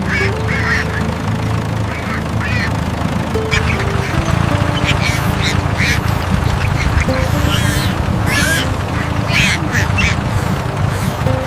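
Cartoon duck quacking in a bean field at harvest time, with tractor and other farm activity, over continuous busy background noise and music, while voices talk.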